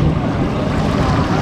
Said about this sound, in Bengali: ঢেউগুলো দারুণ লাগছে, ছলাৎ ছলাৎ ছলাৎ ছলাৎ করে ডাঙাতে আছড়ে পড়ছে।